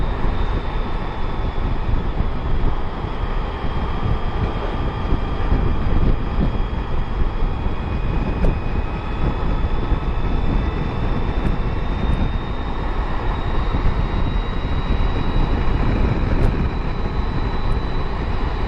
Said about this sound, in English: Such a shame, a windy day.